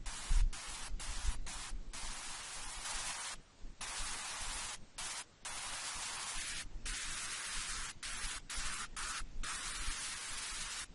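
Loud broadband hiss of synthesized white noise in steady bursts, chopped into a rhythmic pattern of sharp gaps, with no voices.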